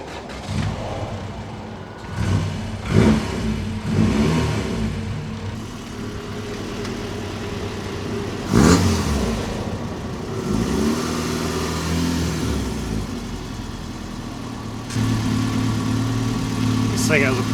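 A Honda CRX engine idles and revs as the car sets off, with a stiff clutch; mid-pitched engine rumble rises and falls throughout, punctuated by a few knocks, while someone talks over it.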